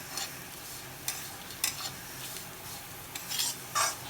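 Flattened rice (poha, chura) frying in a pan and being stirred, giving a soft, steady sizzle broken by several light scraping clinks of the spoon against the pan, fairly quiet and close with no talking.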